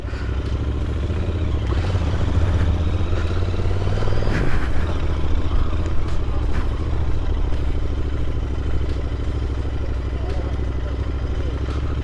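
Motorcycle engines rumble steadily close by at a riders' meet, with people talking over the continuous low drone.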